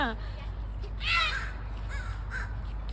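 Crows give loud, harsh caws to guard their chicks, with one strong burst in the middle and fainter calls before and after it over a low background hum.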